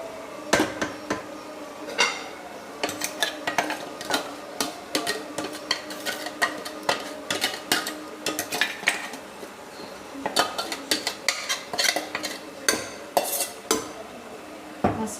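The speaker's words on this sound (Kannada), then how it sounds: "ಸೊ ಈಗ ರುಬ್ಬಿಟ್ಕೊಂಡಿದ್ದಂಥ ಮಸಾಲೆನ ಮಿಕ್ಸ್ ಮಾಡ್ತಿದ್ದೀನಿ" Ground masala being stirred into a bitter gourd tamarind gravy in a metal pot, with a spoon scraping and clinking against the sides in steady, busy strokes for the whole stretch, close and fairly loud with no talk.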